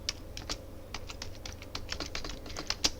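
Rapid clicking of computer keyboard keys as Python code is typed, a steady, uneven patter of close, light keystrokes with no talking.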